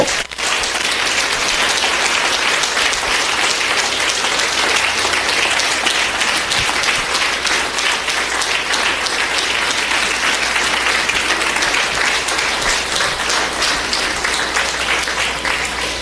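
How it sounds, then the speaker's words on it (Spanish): Sustained applause from a large church congregation, dense and steady clapping that fills the whole stretch without letting up, no voices standing out. "Le damos un aplauso al Señor, hermanos."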